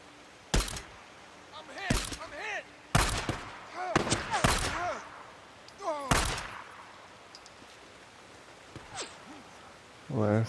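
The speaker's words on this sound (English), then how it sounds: "That sounds like a big machine gun." Heavy machine-gun fire in the zombie game Days Gone comes as several loud, sharp bursts spaced a second or two apart, with someone talking and reacting between and over the shots.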